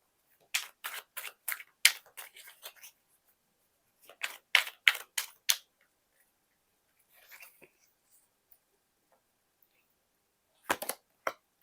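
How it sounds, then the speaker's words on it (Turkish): Tarot cards are handled while one is drawn from the deck, giving sharp, crisp clicking snaps in quick bursts, close and clear, separated by near silence. "Hemen bir kart alacağım."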